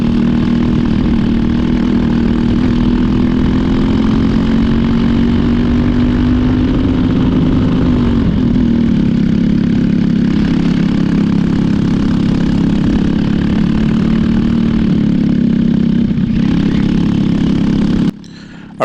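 A racing go-kart engine drones steadily at close range through a turn on a North Texas karting track, its pitch rising and falling slightly with throttle, running alone without voices until a brief cutoff at the end.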